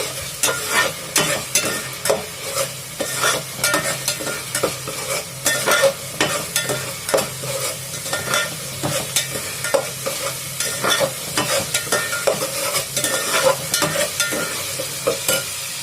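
Masala for mutton curry fries in a pan while a spoon stirs it in steady, repeated scraping strokes over a continuous close sizzle.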